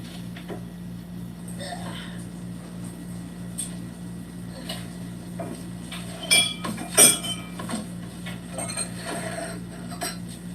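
Glassware clinks as a wine glass is handled while wine is fetched, scattered light taps and one or two sharper chinks over a steady low hum, fairly close.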